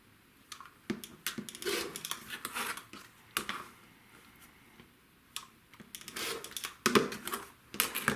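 Quilt fabric being cut into 2.5 inch pieces, with a string of quiet, crisp clicks and short scraping strokes at an uneven pace and brief pauses between cuts.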